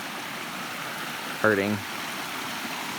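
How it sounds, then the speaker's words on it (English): A small stream of water near a waterfall on an upstate New York hike rushes in a steady, soft hiss throughout, with a brief voice breaking in partway through. "There's this nice little water flow."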